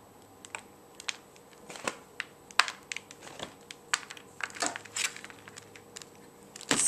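A soap loaf being sliced in half, heard up close as irregular soft clicks and crisp little snaps that come unevenly and tighten into a denser crunch near the end.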